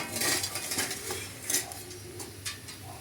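Grated coconut, about 50 grams, is stirred into a date mixture in a pan while making khajur paak, with repeated scraping and clinking of a spoon against the metal and soft rhythmic strokes throughout.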